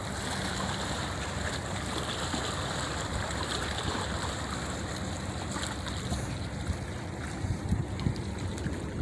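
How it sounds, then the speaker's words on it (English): Waves from the wake of a big oil tanker that has just passed wash steadily against a riverbank at Juan Seguin Historic Park, a continuous broadband slosh with water trickling, holding at a constant level throughout with no talk. "Hear those waves from that big ship, that oil tanker that just went by."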